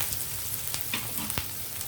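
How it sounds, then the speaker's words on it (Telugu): Onions fry in peanut oil in a pan with a steady close hiss and a few brief crackling pops, with no talking. "ఇది కొంచెం ఉల్లిపాయలు వేగనిస్తే, మరీ రోస్ట్ అయిపోక్కర్లేదండి"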